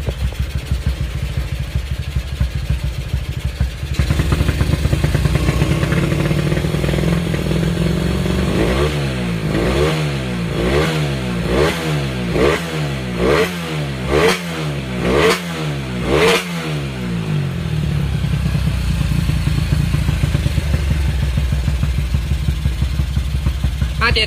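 A rebuilt motorcycle engine in stock 57 cc-stroke trim runs steadily, then blips through a string of about eight sharp revs, loud and close, before settling back to a busy idle with no talk.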